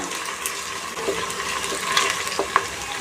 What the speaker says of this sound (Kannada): ಈಗ ಅದಕ್ಕೆ ನಾನು ಶುಂಠಿ ಬೆಳ್ಳುಳ್ಳಿ ಪೇಸ್ಟ್ ಹಾಕ್ಕೊಳ್ತಾ ಇದ್ದೀನಿ ಇದು ಸ್ವಲ್ಪ ಹಸಿ ವಾಸನೆ ಹೋಗೋವರೆಗೂ ಫ್ರೈ ಮಾಡ್ಕೊಳ್ಳೋಣ